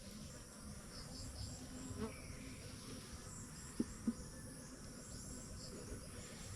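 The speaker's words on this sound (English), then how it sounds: "These are Italian bees" Low, steady buzzing of Italian honeybees in a hive, fairly faint and continuous, with a couple of soft taps partway through.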